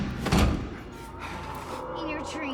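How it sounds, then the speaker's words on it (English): A door in the video game Silent Hill 2 Remake opens with a single heavy thud and slam near the start, followed by a quieter sliding rumble, with a voice talking over it. "just open the door!"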